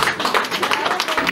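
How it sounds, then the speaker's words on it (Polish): Applause from the audience for a speaker who gave a talk on Ossetian culture at an artists' meeting, dense rapid clapping filling the room throughout, loud and sustained. "Dziękujemy bardzo, miły i wielkie też brawa."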